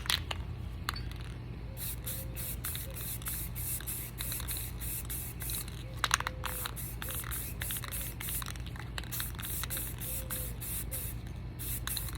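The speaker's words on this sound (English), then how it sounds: "I always do a test spray first" Repeated short hissing bursts of test-spraying spray paint for a tumbler over a steady low hum, some bursts longer than others, fairly close.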